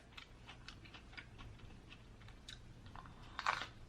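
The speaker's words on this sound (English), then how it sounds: "This a lot of chewing" Someone chews sausage, rice and cucumbers during a mukbang, making quiet, close-up wet crunching and biting sounds in irregular bursts, with one louder crunch near the end.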